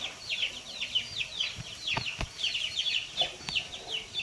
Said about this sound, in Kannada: ಇದು ಕೋಳಿ. ಇದು ಕೋಳಿ ಕುಂಜು. ಕೋಳಿ ಮರಿ.